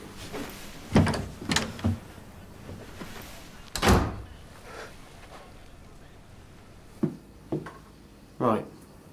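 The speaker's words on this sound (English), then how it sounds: "Shut the door." An interior door swung shut in a house, giving a loud thud with a few sharper knocks and bumps before and after it, close by and without talk.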